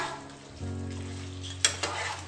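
Coriander paste goes into a frying curry and sets off a sudden steady sizzle, followed by a couple of brief clinks of a utensil against the pan near the end.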